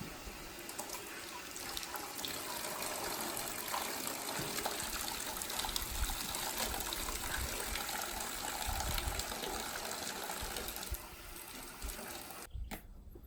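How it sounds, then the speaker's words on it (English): Shower water runs steadily in a camping tent, a faint continuous spray and trickle heard close by, with no talk, ending with a brief bump. "take the shower right here"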